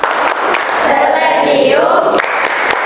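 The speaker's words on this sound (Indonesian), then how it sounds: "kita tepuk semangat dulu" Students in a classroom perform a rhythmic spirit clap, sharp claps at intervals mixed with a loud group chant.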